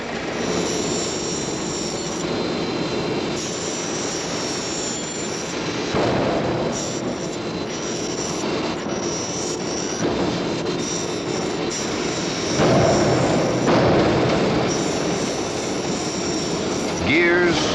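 Factory presses and lathes turning out aircraft parts such as gears, bars, bearings and engine mountings make a dense, steady industrial roar, with grinding and metallic whines rising over it, heard under a narrating voice.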